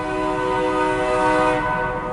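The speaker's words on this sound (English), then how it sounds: "He just hit the horn." A Grand Trunk Western local freight train's horn sounds a long steady chord near Port Huron, loud and close, blaring alone across the whole stretch.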